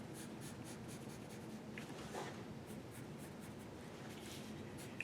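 Pencil scratching steadily across paper while darkening the lines of a cartoon female character drawing, a continuous close, quiet scribbling texture with no voices.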